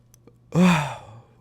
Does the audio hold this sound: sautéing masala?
no